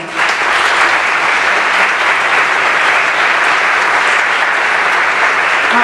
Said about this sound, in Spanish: para el que pedimos otro aplauso